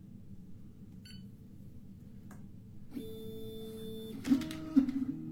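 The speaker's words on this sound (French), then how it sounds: "il suffit de cliquer sur démarrer pour démarrer la gravure" An Algolaser PIXI laser engraver starts an engraving job in a quiet room, a soft electronic tone switching on, steady motor whine, then a few sharp beeps and clicks near the end.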